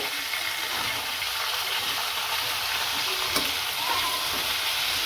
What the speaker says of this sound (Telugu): అన్నీ వేసుకొని మంచిగా ఏగనివ్వాలండి పచ్చిమిర్చి ఉల్లిగడ్డ టమోటా అంతా బాగా ఏగనాక